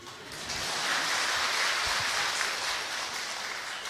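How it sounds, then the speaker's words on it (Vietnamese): An audience claps together at a talk, a dense, even wash of many hands that swells and holds steady for a few seconds, with no voices over it. "Đã vỗ tay thì vỗ cho đều."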